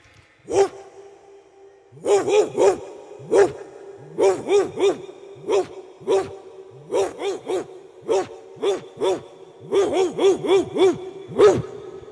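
A human voice imitates a big dog such as an Alsatian or bulldog barking, a dozen deep, gruff barks delivered singly and in quick bursts, close and loud against silence.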